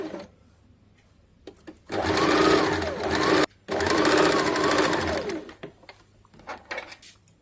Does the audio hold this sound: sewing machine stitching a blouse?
yes